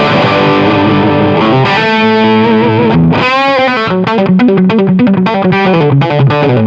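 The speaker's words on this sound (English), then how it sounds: "I'm gonna play a little bit on that blues power selection, let you hear that" Electric guitar through the blues power overdrive channel of a Blackstar JJN amp head, loud and gritty, opening with sustained overdriven chords, then a fast bluesy lead run of choppy, bent notes.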